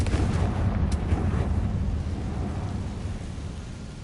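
The Confringo blasting spell detonates in Hogwarts Legacy, a loud rumbling explosion that rolls and slowly fades over a few seconds, with no voices over it.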